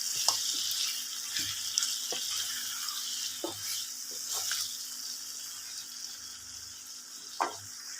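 Salted meat fries in oil with a continuous bright sizzle, while a spoon scrapes and stirs the pan in irregular, fairly close strokes. No one speaks.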